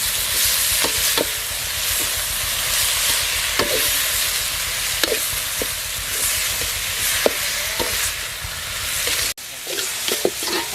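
Tomato being stirred and fried with quail in a pan for a village-style quail pepper fry, giving a steady loud sizzle with intermittent scraping stir strokes and no talking.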